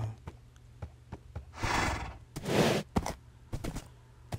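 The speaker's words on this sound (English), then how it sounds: "we're just going to take this horse with us. Oh, it doesn't want to move." A horse in the video game Minecraft, two breathy whinny or snort bursts among scattered short clicks and thumps, fairly faint and close.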